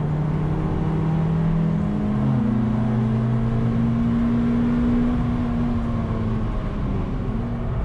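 A Suzuki Swift Sport lapping Cadwell Park on a track day, its engine droning steadily and rising and falling in pitch as it works through gears, loud and continuous throughout with no talk.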